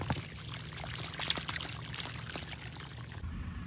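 Water gushing out of a pipe into a farm field, a continuous close splashing pour with a bright watery hiss, steady for several seconds before cutting off.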